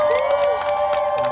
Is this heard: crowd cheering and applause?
yes